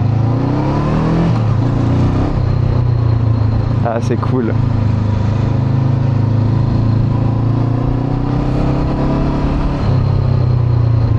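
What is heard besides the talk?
twin-cylinder motorcycle engine revving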